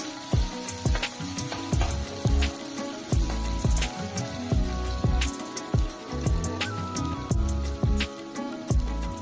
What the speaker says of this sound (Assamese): তেলখিনি গৰম হোৱাৰ পিছত মই পিঁয়াজ জলকীয়াখিনি মই দি সেইখিনি মই গোল্ডেন ব্ৰাউন কালাৰ হোৱালৈকে মই ভাজি ল'ম।